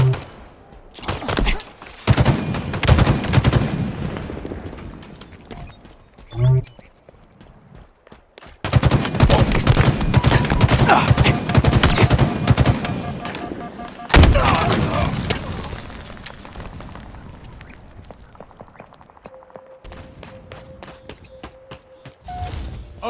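Rapid automatic gunfire and heavy weapon blasts from a Halo Infinite multiplayer firefight come in loud, dense bursts with brief lulls between them, joined by thuds and mechanical clatter, while a brief electronic tone sounds near the end.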